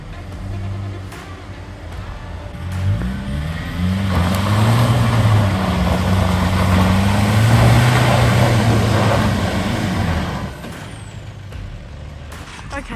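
Car engine labouring on slippery ground in Project Cars, a loud droning, wavering rev that climbs and strains for several seconds with scattered clunks and clicks, then drops away.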